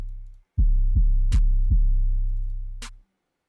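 A hip-hop beat with a deep, booming 808 bass line and sharp claps, the 808 hits landing where the claps fall, played loud and alone before cutting off abruptly.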